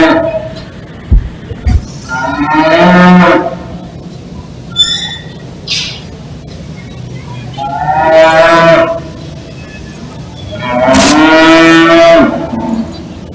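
Cattle at a youth livestock show cattle show moo loudly in three long, drawn-out calls spread across the stretch, with an indoor arena murmur and a few knocks in between.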